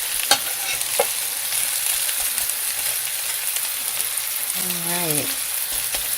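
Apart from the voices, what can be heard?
lentil burger mixture and vegetables frying and being stirred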